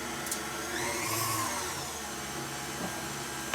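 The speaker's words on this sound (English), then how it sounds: "Let's turn on the machine." Sausage stuffing machine running while making Polish kielbasa, a steady whirring motor drone held close and at constant level for a few seconds, with no voices.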